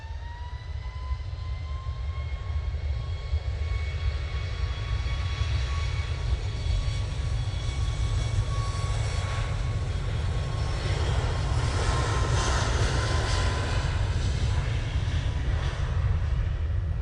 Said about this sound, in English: we've got the Ryanair now spooling up